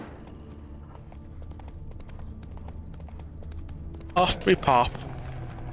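Roach, a horse in the Witcher 3 game, trots in a few quick hoof beats over low ambient game sound, while someone talks briefly beforehand.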